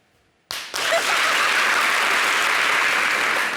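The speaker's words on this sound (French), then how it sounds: "Quand on applaudit, il faut le faire avec délicatesse" After a half-second of near silence, a studio audience bursts into applause that swells and then holds steady and loud, a thick wash of many clapping hands.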